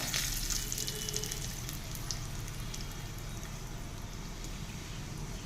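Curry leaves and dried red chillies sizzling in hot oil for a tadka tempering dal, a steady close crackle and hiss with faint pops, running unbroken with no talk.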